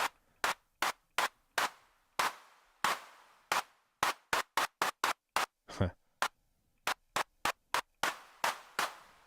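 Rapid, irregular bursts of clap samples from a drum machine kit in Bitwig 5.3, some crisp and dry, others longer and more smeared, fired in quick clusters with brief gaps, loud and close with no talking.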